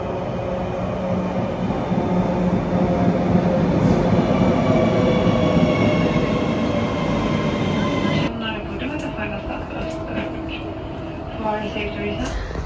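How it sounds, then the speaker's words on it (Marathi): Loud, steady rumble and rattle of a metro train in Sweden heading to the airport, heard from inside the carriage. The tone shifts as the train changes speed partway through, with faint voices in the background. "सो आता आम्ही मेट्रोमध्ये बसलेलो आहोत आणि चाललो आहोत एअरपोर्टला।"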